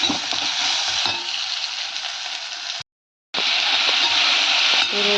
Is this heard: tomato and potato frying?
yes